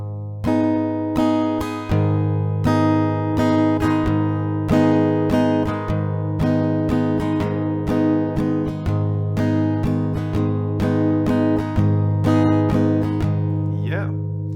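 An acoustic guitar strums the chords of Big Thief's "Dried Roses" in a steady down, down, up pattern, with bass-string downstrokes and lighter strokes on the middle and top strings, loud and close with no talking.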